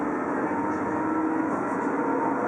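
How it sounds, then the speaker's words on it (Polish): A PESA 122Nal Swing low-floor tram in Łódź pulling away, a faint steady hum with a broad rumbling rail noise and a thin high whine throughout, heard alone for a moment. "Teraz tramwaj oczywiście rusza."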